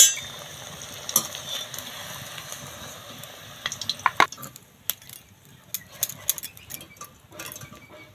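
Cauliflower pieces frying in hot oil give a steady, broad sizzle, with scattered clicks and scrapes from stirring or lifting the pieces out partway through.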